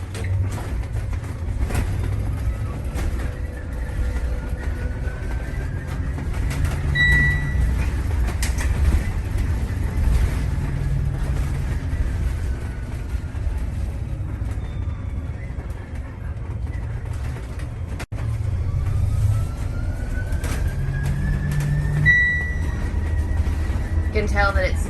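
Inside a Jouley electric bus slowing under regenerative braking: a low, steady cabin rumble with a faint rising electric whine at times, while people talk over it.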